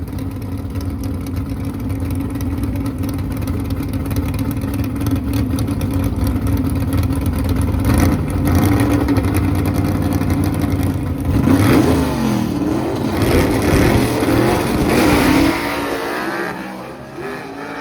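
A Chevy II gasser drag car makes a pass down the strip, its engine roaring loud and steady with rising revs and a surging burst of acceleration before the sound drops away at the end.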